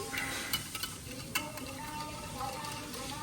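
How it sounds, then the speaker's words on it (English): Egg mixture for French toast, flavoured with Bourbon vanilla from Madagascar, being whisked in a bowl, a steady rapid clatter of the whisk with small louder clicks against the rim, close and fairly quiet. "And then let's whisk it properly."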